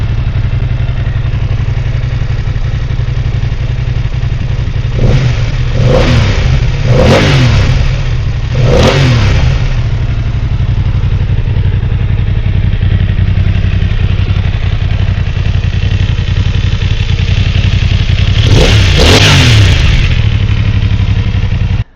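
A BMW F900 XR motorcycle engine under a steady loud drone, with several quick throttle blips and revs rising and falling, then a final stronger acceleration near the end, close and alone.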